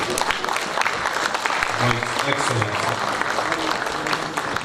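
A crowd applauds Professor Yemi Osinbajo at a lecture on nation building, with steady, dense clapping throughout and an announcer's voice speaking over it.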